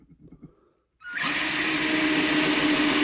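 After a short quiet moment a power drill starts abruptly and whirs loudly and steadily up close, driving a screw lubricated with soap or candle wax at a clutch torque setting of 8.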